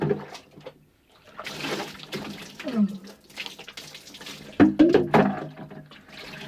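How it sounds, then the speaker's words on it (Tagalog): Water splashes and runs at a sink in irregular bursts, with wet rubbing and dripping as hands scoop water to the face; a voice briefly speaks. "Maghilamos na tayo."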